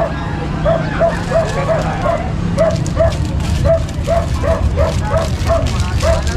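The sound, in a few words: Shih Tzu puppies barking and yipping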